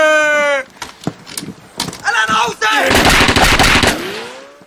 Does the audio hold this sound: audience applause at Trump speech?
no